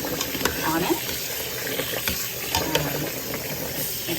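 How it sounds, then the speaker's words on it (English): Cold tap water running over freshly cooked rice noodles for khao poon, a steady hissing splash in a kitchen sink under a speaking voice. "I take it out and then run some cold water on it"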